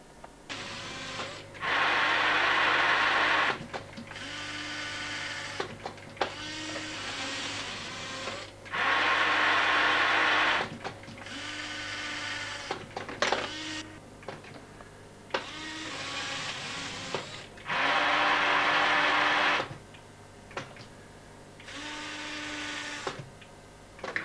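A fischertechnik model machine with three coupled grippers runs in repeating cycles, loud motor whirring bursts lasting a few seconds alternating with quieter mechanical hum and small clicks.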